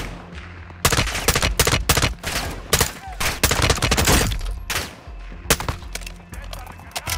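Intense gunfire in Call of Duty: MW2 (2022): loud, rapid automatic bursts and single heavy shots crowd together after a quiet start, with thuds and a shattering sound mixed in, then thin out into scattered shots as a German-speaking player talks.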